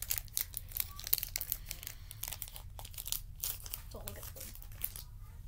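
A Pokémon Vivid Voltage booster pack wrapper being torn open, close crinkling, tearing and crunching of foil in quick irregular bursts, with someone speaking over it.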